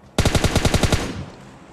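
Automatic gunfire in PUBG Mobile: a fast burst of about nine evenly spaced, loud, close shots, then a short fading echo.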